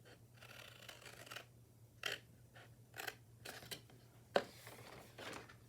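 Scissors snip through a window box along its score lines in a quiet room, several short, crisp cuts spaced unevenly, close and faint.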